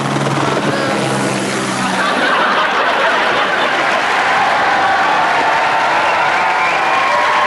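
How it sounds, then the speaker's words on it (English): Dense audience applause at a Paris theatre performance, a loud continuous wash of clapping that swells and holds steady after a brief tonal sound at the start. "Listen to that applause."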